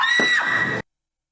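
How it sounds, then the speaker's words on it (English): A single shrill scream, loud and close, sustained for under a second before cutting off abruptly into silence, heard during a summer screams haunted event. "another scream to the scream meter."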